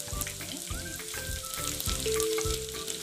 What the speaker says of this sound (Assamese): তেল গৰম হোৱাত মই পিঁয়াজখিনি দি দিছোঁ। পিঁয়াজখিনি দিয়াৰ পিছত মই অকণমান সময় পিঁয়াজখিনি ভাজি ল'ম